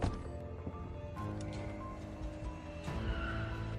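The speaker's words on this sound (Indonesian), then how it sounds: "James masuk ke salah satu mobil dan berhasil menyalakannya" A car revs and pulls away with tires squealing, a loud sustained engine and screeching skid sound with sharp bursts, under music-like layered background.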